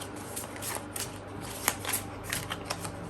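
A deck of tarot cards being shuffled by hand, a steady run of soft riffling and sliding flicks with a few sharper snaps, close up and without talk.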